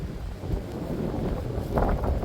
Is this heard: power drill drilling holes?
no